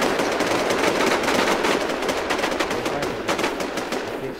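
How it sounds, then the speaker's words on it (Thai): Rapid automatic gunfire rattles in the online survival shooter Infestation, with dense, continuous bursts of shots close by and little else audible. "ใครยิงแอล"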